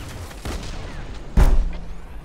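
Gunshots in the video game Fortnite, a couple of sharp cracks over a continuous game background, the second one louder and closer.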